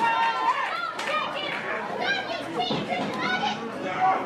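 A wrestling crowd cheers and shouts for Zachariah Cutter at a live Christian wrestling holiday event, a steady mass of excited voices with children's high-pitched yells standing out throughout.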